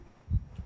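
A heartbeat pounds in the horror video game Suite 776, two deep, muffled thumps in quick succession, low and throbbing against a quiet background.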